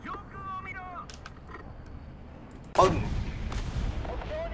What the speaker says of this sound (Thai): เอฟเฟกใหม่ครับก็คืออ การไล่แก๊สในท่อของปืนนะ